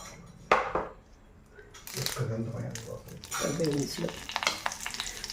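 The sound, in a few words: turmeric frying in hot coconut oil in a pan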